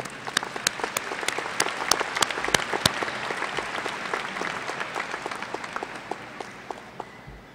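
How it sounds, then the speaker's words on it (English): A graduation audience at Springdale High School applauding, a broad crowd of clapping with several sharp, individual claps standing out near the front, loud at first and gradually tapering off over several seconds. "With your applause, thank all of those in this audience today."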